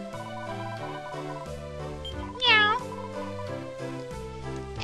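A cat in the video game Dragon Quest IX lets out a single short meow midway through, standing out above steady, stepping background music.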